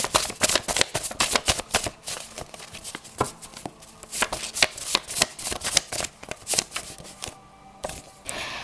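Oracle cards shuffled by hand, a dense run of crisp riffling flicks and slaps in an uneven, continuous rhythm, close and moderately loud with no talking.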